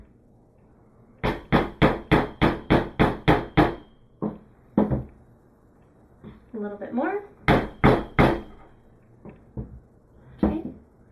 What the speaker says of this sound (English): And then we'll want to just hammer until it gets to about here